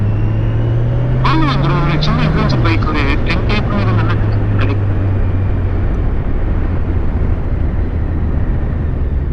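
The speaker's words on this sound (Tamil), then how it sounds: "ஒரு கார் அந்த பக்கம் போச்சு." A car passes by on a road in the USA, its engine hum rising and falling in pitch as it goes past, with someone talking throughout over steady wind noise.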